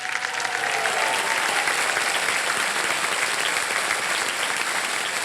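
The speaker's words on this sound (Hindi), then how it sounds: "तालियां बज जाएं इनके लिए।" Sustained studio audience applause on a Hindi quiz show set as a contestant quits with a prize, a dense steady clapping roar filling the whole stretch with no talk over it.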